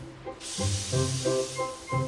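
A steam engine from Thomas the Tank Engine releases steam: a sudden, loud, sustained hiss that cuts in abruptly and runs continuously beneath rising and falling melodic tones.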